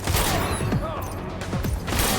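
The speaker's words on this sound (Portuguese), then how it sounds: "não é difícil usar a escopeta, tá, gente?" Gunfire in the video game Death Stranding, a run of loud, rapid reports in a busy, sustained burst with a few sharper thumps standing out through the mix.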